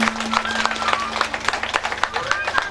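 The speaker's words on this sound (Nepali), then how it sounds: "ताली।" Audience applause at a Srimad Bhagwat Mahapuran religious gathering, steady rhythmic clapping from a crowd heard under someone speaking and sustained throughout.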